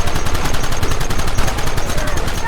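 Dense, continuous gunfire from the Western video game Red Dead Redemption, with rapid overlapping shots in a loud, steady barrage and no pauses.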